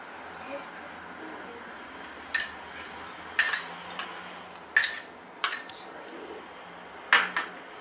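Utensils clink against a bowl while fried aval mixture with dry grapes and cashew nuts is tossed together, several sharp metallic taps spaced through the stretch over a low background.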